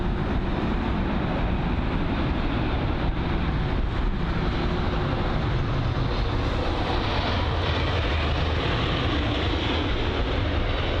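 A jet aircraft landing at London Heathrow produces a loud, continuous broadband roar that stays steady and close throughout.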